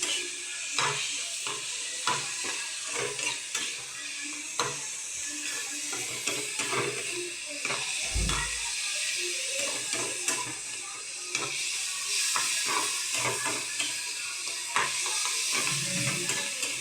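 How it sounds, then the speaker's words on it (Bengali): Onions fry in a pan for a fish roe fritter curry, a steady crackling sizzle with frequent sharp scrapes and taps as they are stirred, and one low thump midway. "আমার পেঁয়াজটা লাল লাল হয়ে এসেছে, আর একটু ভাজতে হবে।"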